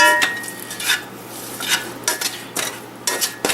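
A spoon scrapes and clinks against a bowl in several short, separate strokes while olive oil is worked into a stuffed bell pepper filling. The strokes are close and fairly crisp, with no talking.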